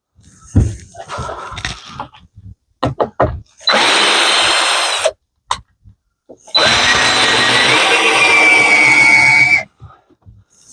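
A power drill drives screws into wood while a shed is built, with two sustained whirring bursts of a few seconds each separated by quieter clunks and handling knocks, loud and close.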